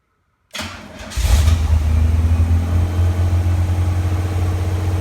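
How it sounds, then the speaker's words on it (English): A Pontiac Fiero GT engine cranks briefly, catches and settles into a loud, steady idle close by. "Let's start up the vehicle."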